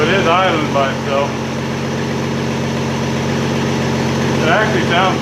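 The engine of a 1963 Rambler idles steadily nearby with a low, even rumble and slight vibration, while a person talks briefly over it.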